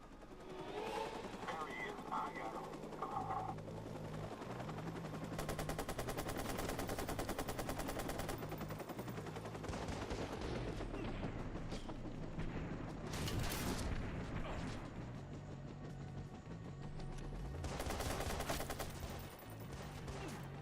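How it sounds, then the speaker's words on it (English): AK rifle fire in the Watch Dogs video game, repeated bursts of automatic gunfire in loud clusters over a steady backdrop of game noise across about twenty seconds. "let's pull out an AK."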